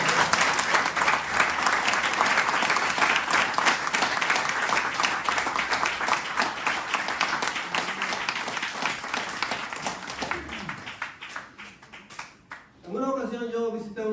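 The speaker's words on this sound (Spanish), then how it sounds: "Den un aplauso al Señor." Sustained applause from a church congregation after a call to applaud the Lord during a Spanish-language sermon, loud and dense for about ten seconds, then tapering off as the preacher resumes speaking.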